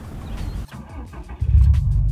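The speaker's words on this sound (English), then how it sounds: "That is one thing I do like when I turn my car on." A 2016 Subaru WRX STI in Hyperblue turns over, a low engine rumble that briefly dips before surging into a louder, deeper idle close by.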